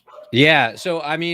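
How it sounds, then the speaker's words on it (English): Dogs bark and yip in the background of a room, with whining, tonal bursts that blend into and run under a person talking close to the microphone. "sorry about the dogs."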